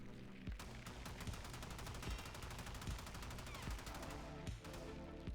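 Video game gunfire in Warframe, a fast continuous stream of sharp shots with rapid bursts and a few heavier booms, loud and unbroken with no talking.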